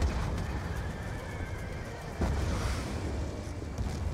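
A horse whinnies amid a dense, noisy Black Ops 2 combat soundscape with a low rumble and a sudden thump partway through.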